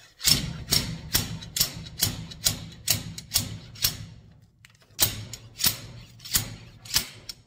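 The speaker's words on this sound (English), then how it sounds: "I'm not sure how these seals are supposed to come out, but I use a slide hammer." Repeated sharp metallic knocks from a slide hammer pulling a rear axle seal on a 1964 Ford Econoline van, in a steady rhythm, about a dozen blows with a short pause midway, close by and fairly quiet overall.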